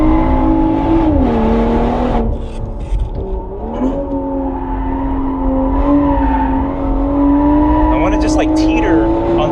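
Engine of a 2024 BMW M340i pulling hard on a race track, heard from inside the car with a steady rising and falling drone as the revs shift between gears, loud and continuous.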